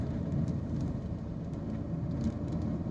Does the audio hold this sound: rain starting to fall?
yes